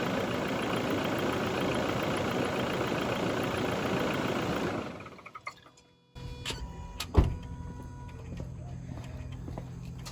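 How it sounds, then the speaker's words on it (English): A Toyota Hilux N80 engine idles with a steady, close rumble, then is switched off and winds down into near silence, followed by a few scattered clicks and a sharper knock. "I'll go and shut down the car now."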